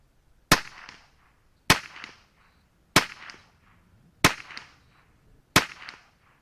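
Five sharp CCI Quiet Segmented hollow point .22 subsonic rounds fired from a Ruger 10-22 rifle, each a loud, crisp crack with a short decaying tail, spaced about a second and a quarter apart, no talk.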